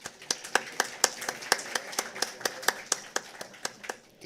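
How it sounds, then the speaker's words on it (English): Audience applause after a panel session at an energy investment conference, a modest round of distinct claps in a loose steady rhythm, fairly sparse and moderately close, fading slightly toward the end. "A big round of applause, ladies and gentlemen."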